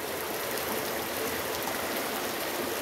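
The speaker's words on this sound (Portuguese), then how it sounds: "É o Rio Pinhacó." The Pinhacó river in Conceição, Paraíba runs swollen after heavy rain, a steady, dense rushing roar of flowing water that holds even throughout.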